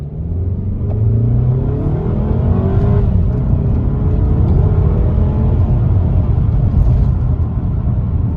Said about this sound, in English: Let's go ahead and give it a little gas.